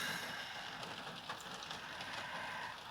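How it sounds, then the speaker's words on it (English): Heavy rain teeming down outside on a miserable day, a steady broadband hiss that fills the whole clip at a constant level, with no voices over it. "it's a miserable blinking day, absolutely teeming down with rain"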